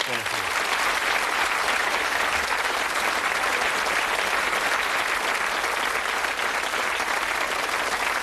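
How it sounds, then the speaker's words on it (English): A studio audience at the British darts quiz show Bullseye breaks into loud, sustained applause, a thick wall of clapping that stays steady and undiminished from start to finish. "Give them all a nice round of applause."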